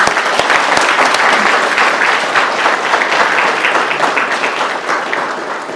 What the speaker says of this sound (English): one more round of applause for everybody that put this thing together